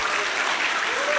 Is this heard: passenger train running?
no